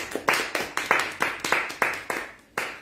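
A congregation claps in unison during a church service, about ten sharp, evenly spaced claps ringing out loud and close with a touch of room echo.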